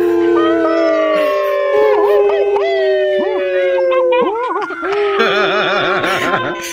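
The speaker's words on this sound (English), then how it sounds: "Ladies and gentlemen, I bring you a group howl." Several huskies howl together in overlapping, wavering long notes, loud and close, with yips and rising wails layered throughout.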